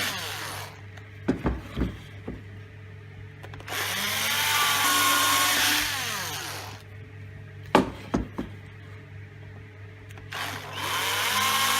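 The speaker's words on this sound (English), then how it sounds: "So let's drill a pilot hole for this." A power drill whirs in sustained bursts while drilling a pilot hole, its pitch climbing and falling as it bores, with knocks and clatter of handling between runs.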